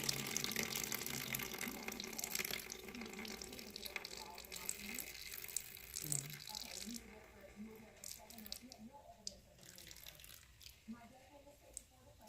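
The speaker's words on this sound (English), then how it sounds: "Now we're going to drain the juice off this corn." Juice is drained off a can of whole kernel corn, a trickling, splashing pour of liquid that gradually thins out, heard close under a quiet background.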